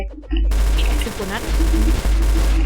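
An M249 machine gun fires in the Roblox game Blox Fruits, a dense, sustained burst of rapid gunfire with a heavy low thump running almost continuously, briefly dropping out near the middle and end.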